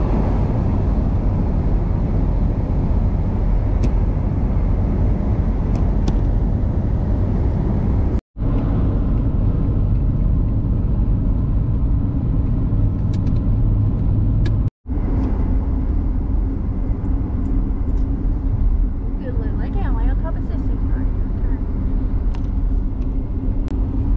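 Steady car road noise on a highway through Utah, a continuous low rumble of tires and engine with wind hiss, loud and unbroken apart from two brief dropouts, with no talking.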